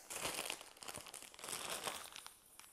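Plastic zip-top bag of Ritz crackers crinkled and handled continuously up close, dense rustling with a few sharper crackles, moderately quiet and with no talking.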